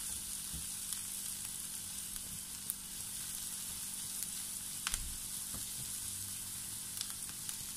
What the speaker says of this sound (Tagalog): So, igigisa muna natin ang ating sibuyas ng 1 minuto.